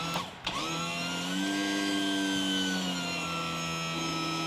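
A boat outboard's electric trim motor runs without moving the unit, a steady close electric whine and hum after a brief click and thump at the start.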